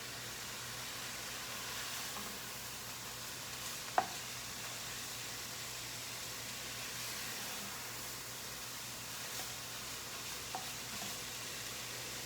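Steady, soft frying sizzle of ground beef in a pan, a constant hiss with an occasional small clink of a utensil.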